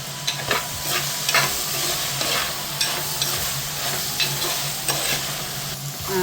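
Chopped tomato fries in a pan for an Amma-style dried prawn theeyal, a steady sizzle broken by repeated scraping stirs of the spatula, close and fairly loud with no talking.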